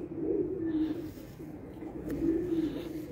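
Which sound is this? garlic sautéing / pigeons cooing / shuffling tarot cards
pigeons cooing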